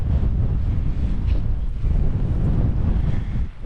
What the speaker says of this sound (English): It's quite breezy.